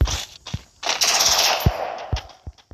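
Rapid bursts of gunfire from a favourite gun in the mobile shooter game Free Fire, loud and close, with sharp repeated shots in quick clusters over a steady game background.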